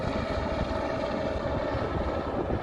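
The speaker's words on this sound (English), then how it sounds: "What you hear in the background is a helicopter that just have dropped some supplies for the cabin" A helicopter flies near a remote mountain cabin on Hardangervidda in Norway after dropping off supplies, its rotor drone a steady, loud, continuous whir with no voices.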